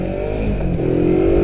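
Voge 350AC motorcycle accelerating hard, engine note climbing steadily in pitch, loud and close with wind rush beneath.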